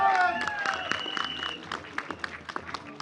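Audience applause at a film trailer launch event, with scattered clapping bursts that grow more distinct toward the end, following someone speaking over a microphone.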